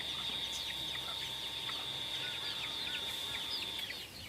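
Baby chicks kept in a cage or woven coop without a heat lamp peep continuously in a busy, overlapping chorus of thin, high chirps, steady and moderately close, with no talking.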